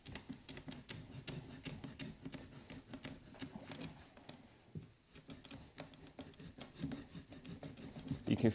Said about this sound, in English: I'll just scrape some of this off.